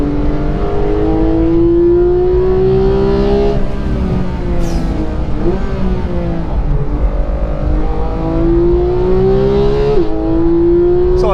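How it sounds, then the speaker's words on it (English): A Porsche 911 GT3 without turbos revs hard on a race track, its engine note climbing through the gears in long rising sweeps with short dips at each shift. The sound is loud and close throughout. "just letting it rev and rev and rev"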